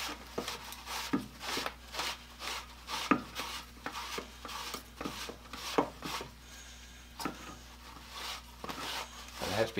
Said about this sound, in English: What I'm trying to do is get that adhesive off of there as much as I can.